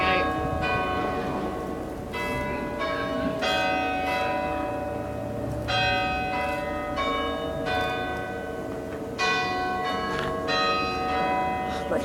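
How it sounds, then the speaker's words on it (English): Church bells ring out the hour at 2 o'clock, a series of bright, resonant strikes with long overlapping decay, steady and fairly close against a constant outdoor background hum, with no talking. "I'm not sure if it'll chime, but it should, because it's nearly the hour."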